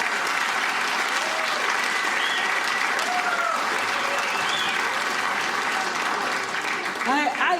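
A comedy club audience gives a stand-up comedian sustained, loud applause, a dense wash of clapping that holds steady for several seconds, with a few whoops rising over it and a voice at the very end.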